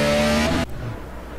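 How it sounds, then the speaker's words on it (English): A race car engine runs out of fuel: a loud, steady engine drone cuts off abruptly, then drops to a weaker, rougher sputter that fades away within about a second. "It's sputtering. He is out of fuel."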